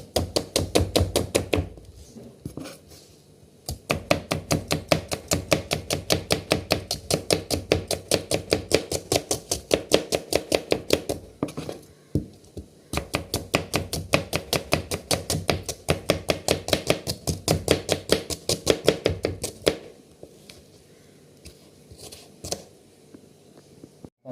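An onion is rapidly chopped into small pieces with a knife on a board: long runs of fast, even, crisp taps close up, broken by a few short pauses.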